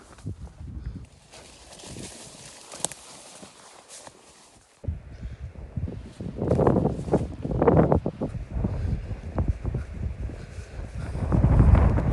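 Gusty wind buffets the microphone in uneven low rumbles at a hilltop overlook on a hike, dropping briefly then returning stronger, with occasional scuffing underneath.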